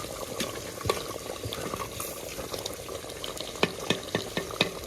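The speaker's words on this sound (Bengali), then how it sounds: "গরম মশলাটা দিয়ে দিয়েছি, এবারে নাড়িয়ে ছাড়িয়ে নামিয়ে নেবো" Meat curry with garam masala stirred in a clay pot: a low bubbling simmer with repeated scraping clicks from the spoon, steady and fairly close, no voices.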